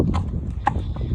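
Dennis, an eight-year-old horse out hacking alone, walks with a clear clip-clop of hooves, several distinct strikes spaced in an uneven walking rhythm, close and fairly loud over a low rumbling background.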